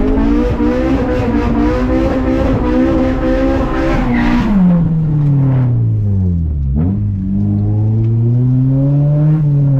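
Honda Civic EM1 engine revs hard through rising gears, a loud close roar climbing in pitch, then tires squeal and the note drops and sweeps back up as the car pulls away.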